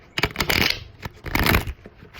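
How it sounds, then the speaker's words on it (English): A deck of tarot cards being shuffled by hand, two bursts of riffling and flicking close by with a brief pause between them, no talk. "I should probably have a couple spare decks laying around so I don't have to keep shuffling the same one over and over."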